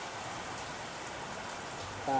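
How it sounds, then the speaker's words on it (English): Steady light rain falls in an afternoon setting, a constant even hiss of drops with no breaks, and a brief faint tone near the end. "it's kind of rainy, although not heavily but steadily raining here"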